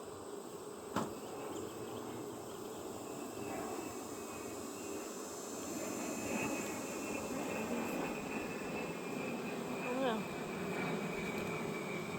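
Honeybees at an open hive during a beekeeping inspection give a steady, continuous buzz, with occasional brief louder passes of single bees, all fairly close and without talk.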